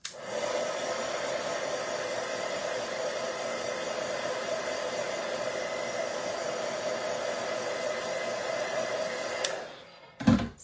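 A heat dryer blows steadily on watercolor paint in a craft stamping session, a loud, even hum that runs for about nine seconds before cutting off, followed by a short clatter.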